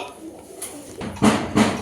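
A pair of Royal Teddy pigeons gives low cooing calls, two short coos rising near the end after a quieter stretch, with faint background murmur.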